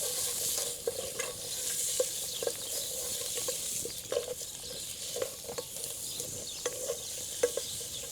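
Onions fry in a pan for chili con carne, a soft steady sizzle under repeated stirring scrapes and light taps, close and fairly quiet with no talking.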